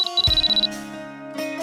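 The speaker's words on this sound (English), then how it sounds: "I was jolted awake by the alarm" An alarm clock in a visual novel video game rings with a quick run of high, rapid electronic beeps, followed by soft sustained musical tones.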